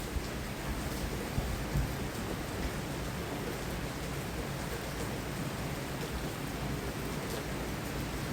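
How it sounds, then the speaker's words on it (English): A heavy summer rain downpour makes a dense, even hiss, steady and unbroken throughout. It is fairly faint overall, with no voices. "the fact that it is raining as hard is kind of cool"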